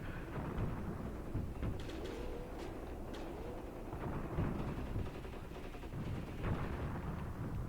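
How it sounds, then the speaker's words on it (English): Dug-in Maxim machine guns fire in a Graviteam Tactics battle: scattered distant bursts crackle through a constant low rumble of combat ambience, with no voices. "you can hear the Maxim guns firing, which are all dug in now"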